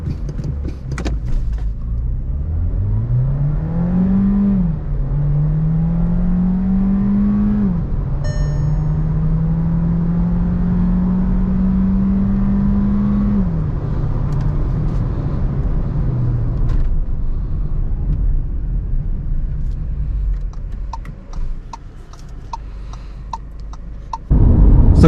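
A Volkswagen Virtus 1.5 TSI DSG sedan accelerates hard in sport mode. The engine note climbs through several rising sweeps as the gears shift, then settles into a steady road rumble heard from inside the cabin.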